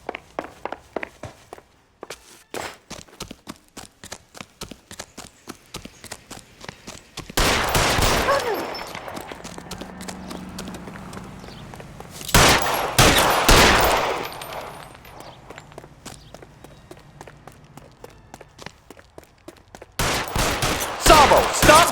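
Gunfire in the L.A. Noire game: sharp, rapid bursts of shots and volleys crack out in clusters, loud and close, separated by quieter stretches of footsteps and scattered single shots, with brief shouting voices.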